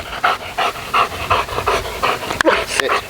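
A dog being trained for obedience competition pants hard and rhythmically close by, quick steady breaths with a brief whimper-like squeak near the end.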